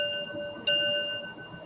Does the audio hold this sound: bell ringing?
yes